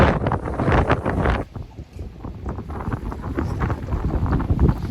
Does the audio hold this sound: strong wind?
yes